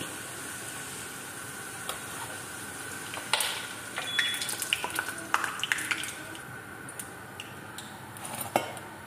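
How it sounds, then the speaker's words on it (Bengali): Pieces being fried one by one in a home kitchen pan, a soft steady sizzle beneath frequent metal clinks and scrapes of a utensil, busier in the second half, with no talk. "এভাবে এক এক করে সবগুলো আমি ভেজে নিচ্ছি"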